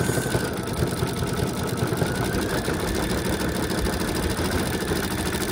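An embroidery machine stitches a monogram onto an infant bow hat, its needle making a rapid, steady, close mechanical chatter that runs without a break and with no talking.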